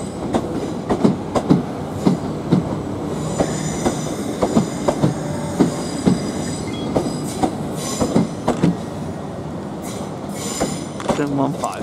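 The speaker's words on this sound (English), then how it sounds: "There goes the train, London train bus." A Southeastern train departs Hastings for London Charing Cross, its wheels beating a steady clickety-clack rhythm with occasional squeals as it rolls close by, and a voice speaks faintly under the noise.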